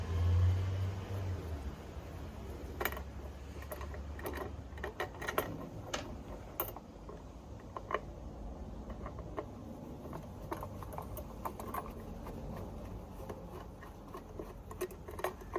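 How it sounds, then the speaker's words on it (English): Small screws being turned out of antique oak desk drawer handles, a string of faint scattered clicks and light metallic ticks over a low steady background hum, with no one speaking. "Oh, so I'm going to take the handles off. These little screws."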